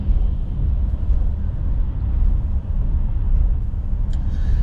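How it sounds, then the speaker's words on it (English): Steady low road rumble inside a moving Morgan car on the M25 motorway, a dense continuous drone with no talk, constant in level throughout. "you're stuck in a traffic jam rather than driving, just because of the noise of the road"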